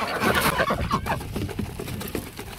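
A small flock of five farmyard ducks calls at close range, a brief burst of raspy, overlapping quacks and clucking that fades into scattered softer calls.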